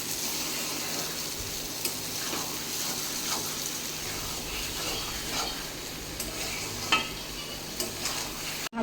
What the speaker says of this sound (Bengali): এবারে এঁচোড়টাকে আমি ভালো করে কষিয়ে নিচ্ছি